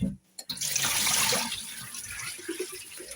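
Tap water runs hard into a bowl of basmati rice during rinsing, a loud close rushing splash that eases into softer trickling and sloshing.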